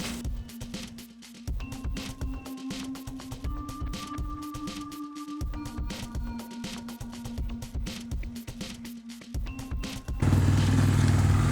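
A dual sport motorcycle engine with a rough idle fires up and idles in uneven, rapid pulsing thumps, close by. It ends in a louder, broadband rush in the last second.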